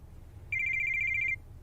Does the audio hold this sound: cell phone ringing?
yes